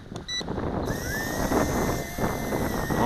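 Strong gusty wind at a lake roars and buffets directly across the microphone in a continuous loud rumble. A faint thin mechanical whine runs underneath, with no talking.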